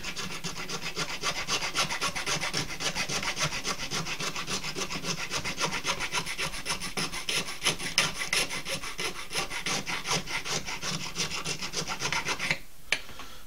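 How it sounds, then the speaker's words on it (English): Coarse file rasping on bone while shaping a fish hook, a steady, rapid back-and-forth scraping close up, continuous for many seconds before stopping near the end. "Nice coarse file does a lot of good quickly."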